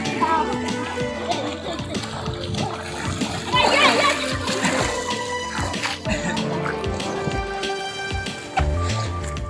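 Children swim and splash in the overflowing Malir river, with steady, busy water splashes throughout and children's voices and other people talking over the churning water.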